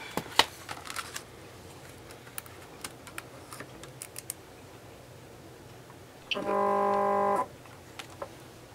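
Cricut cutting machine with a Cars cartridge: scattered light keypad clicks, then a short, loud tonal motor whir for about a second before it goes quiet.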